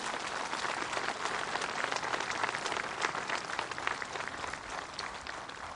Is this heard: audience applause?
yes